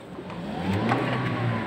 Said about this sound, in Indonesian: Nah sekarang coba jenengan ngegas, kaki kanan gas pelan-pelan.